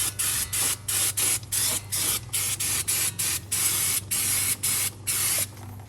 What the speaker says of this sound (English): Going to use a little bit of brake clean as well, just to give it a bit of a squirt down.